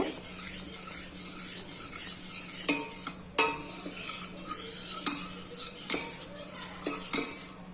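Spices being mixed into a vegetable roll filling, with sharp spoon-against-bowl clinks and scrapes recurring at irregular intervals over a low background hiss, close by, no speech.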